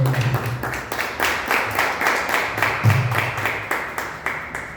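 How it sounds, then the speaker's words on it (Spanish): Church congregation applauding the Lord during a Spanish-language sermon by preacher Miguel López, with steady rhythmic clapping that holds throughout at a moderate level, no speech over it. "Denle un aplauso al Señor."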